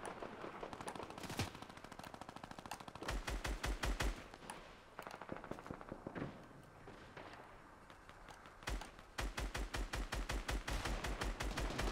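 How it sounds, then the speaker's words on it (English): Fortnite gameplay gunfire rattles in rapid automatic bursts with a few single shots between them, loud and punchy, with brief pauses separating the volleys. "my bullets just don't wanna hit anyone"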